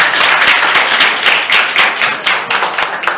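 An audience claps loudly for Jesus at a religious gathering, a close, vigorous burst of many hands with distinct rhythmic accents throughout, no talking over it.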